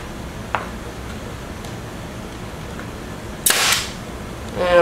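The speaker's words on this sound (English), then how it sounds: "I'm just gonna shoot a couple nails" Two sharp pneumatic brad nailer shots drive brads into a wooden module leg pocket for a switching layout, a faint pop early on and a louder crack with a brief hiss near the end.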